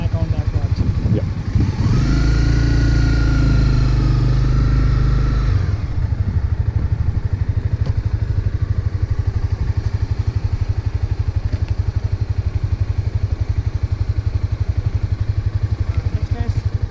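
A motorbike during a licence test runs with a steady engine drone, revving briefly early on and then settling into a continuous, close rumble.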